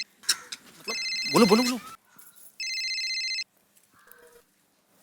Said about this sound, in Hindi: अरे मेहता साहब का फोन।